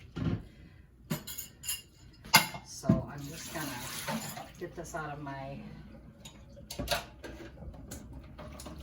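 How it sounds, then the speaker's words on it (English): Filtered water runs from a tap into glass canning jars for canning black beans, with clinks of glass and handling noises, while a person talks over it nearby. "Now I'm going to fill them up with some filtered water."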